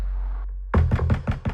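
Five firm, evenly spaced knocks on a front door, close and loud, following a brief low hum.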